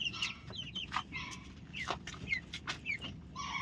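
Broiler chickens and chicks clucking and peeping in a pen, a soft, scattered chorus of short calls from several birds over low background noise, with no voices.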